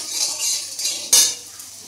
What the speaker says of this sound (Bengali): এইদিকে ছেলের জন্য আলু ভাজছি, আলু ভাজাটা প্রায় হয়ে এসছে